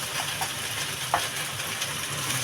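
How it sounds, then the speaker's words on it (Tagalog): Mushrooms frying in a pan during the making of creamy pork steak, a steady, moderately loud sizzle and hiss with a brief scrape partway through. "Iprito din natin yung mushroom"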